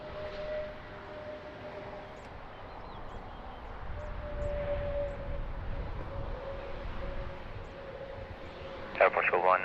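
Airliner jet engines at Lisbon Airport make a steady broad roar that swells a little in the middle, heard at a distance under tower radio chatter, with a sharper tonal burst near the end.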